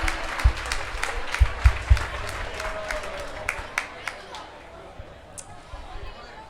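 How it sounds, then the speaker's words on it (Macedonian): Audience applause at a talent show, a burst of scattered clapping from a crowd that thins out and fades, with a few sharp louder claps and some voices underneath. "Ајде еден аплауз за неа."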